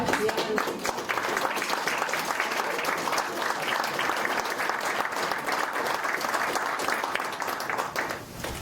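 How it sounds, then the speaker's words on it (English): A room full of people at a school board meeting applauds, dense clapping sustained at an even level for several seconds before tapering slightly. "I want to applaud the students."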